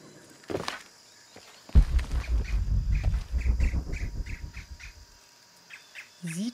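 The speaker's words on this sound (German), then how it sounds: "Irgendwie scheint es hier nur Vögel zu geben." Birds squawking in Shadow of the Tomb Raider, a run of short repeated calls over a rumbling, footstep-like low ambience, with a brief sharp call near the end; moderately loud, no talking.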